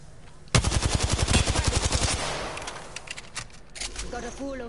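An enemy fires at the player in a video game, with a loud, rapid burst of automatic gunfire lasting over a second, then fading shots and game effects as a voice talks over it.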